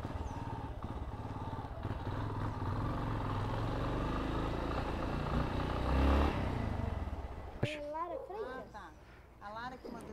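A motorcycle engine rumbles steadily while riding, with wind and road noise; the engine drops away near the end and a voice speaks.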